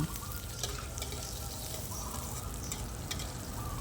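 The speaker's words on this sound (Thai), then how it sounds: "อย่างแรกเลยก็คือเจียวหัวหอม ให้หอมนะคะ ให้ออกเหลืองๆนิดนิดนึง" Shallots frying in oil make a faint, continuous crackling sizzle with soft occasional spatters, steady throughout and without talk.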